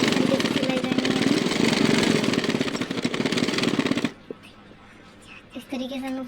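Sewing machine stitching folded suit fabric, a loud, steady, fast-pulsing motor rattle close up that runs for about four seconds and then stops, leaving quiet handling sounds and a brief voice.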